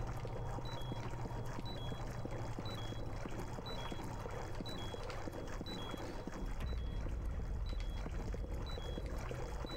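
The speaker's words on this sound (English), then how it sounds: "Amazing how Snake can get footsteps out of the water." Snake wading through water in Metal Gear Solid: The Twin Snakes, a steady stream of sloshing, echoing footstep splashes in an enclosed flooded space, continuous and fairly loud with no talking.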